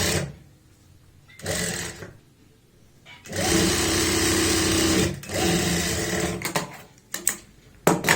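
Sewing machine stitching the lining of a pair of trousers, running in several bursts of steady whirring, the longest lasting about two seconds, separated by short pauses and a few brief stops near the end.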